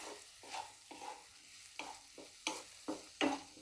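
Radish leaves and crushed raw peanuts stir-fried in a pan, with a series of spatula scrapes and stirs arriving in irregular bursts over a soft background sizzle.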